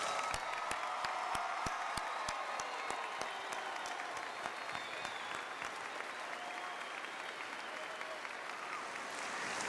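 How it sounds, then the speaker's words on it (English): A graduation crowd applauds the Flower Mound High School senior class of 2007, a broad sustained wash of clapping from a large audience, with a few crisp individual claps standing out early on. "2007 a round of applause"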